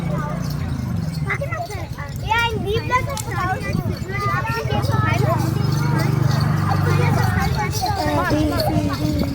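Bullocks' hooves clop steadily as a bullock cart rolls along, with a continuous low rumble and several voices, including children, talking throughout.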